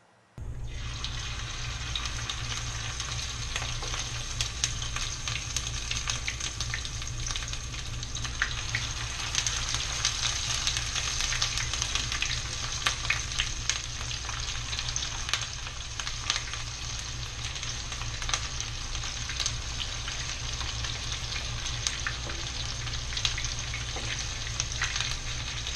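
Cod fritters fry in hot lard over medium-high heat, giving a steady, dense sizzle and crackle with scattered pops that runs unbroken from start to finish, close and fairly loud, with no talking.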